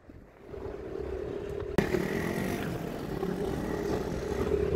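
Yamaha NMAX V3 standard scooter being ridden, a steady engine drone that builds gradually as it speeds up, with a brief sharp knock near the start and wind rush, no voices.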